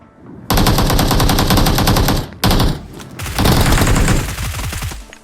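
Loud automatic gunfire from the mobile shooter game BGMI (PUBG Mobile) rattles in long rapid bursts, breaks off briefly, then resumes with more sustained fire.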